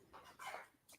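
A husky gives a few short, soft whimpering yips, brief bursts close by in a quiet room with no one talking.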